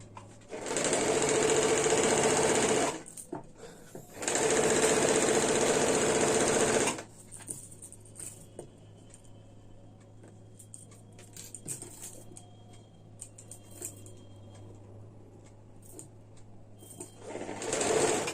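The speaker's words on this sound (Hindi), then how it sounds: "आइए मैं सिल के बताती हूँ।" A sewing machine stitches a kurti in two loud, close bursts of rapid whirring, each about three seconds long, followed by quieter handling of fabric and small mechanical clicks, then a final short burst.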